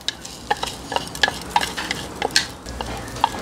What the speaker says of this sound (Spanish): Le ponemos el arroz y luego sofreímos.